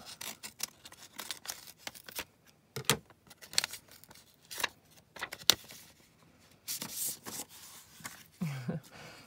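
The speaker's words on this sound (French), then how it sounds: "Je vais ouvrir avec mes ciseaux." A string of sharp snips and crisp paper rustles, irregular and close, as scissors cut through an envelope.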